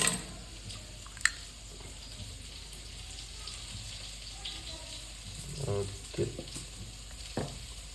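Chicken pieces coated in maida, ginger-garlic, pepper, chicken masala and turmeric fry in hot oil, giving a steady close sizzle and hiss with occasional bubbling bursts and a brief voice.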